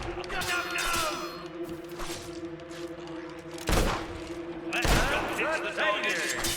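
Gunfire in the video game Fable 2, with sharp shots and thumps striking a target amid game sounds and a sustained tonal hum. Two louder bursts stand out in the latter half.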